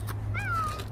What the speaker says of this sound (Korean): 오늘, 고양이 집에서 따뜻하게 보내, 우리 호동이.